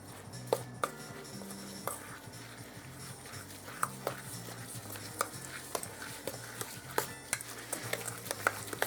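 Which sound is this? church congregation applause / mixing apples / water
mixing apples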